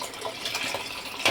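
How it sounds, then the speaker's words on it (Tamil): Tamarind solution trickles slowly into a pot of rasam, a soft, steady liquid pouring and splashing close by, ending with a slightly louder splash. "அந்த ரசம் புளி கலந்த கரைசல் எடுத்துக்கிறோம். அதை அப்படியே பொறுமையாக ஊற்றணும்."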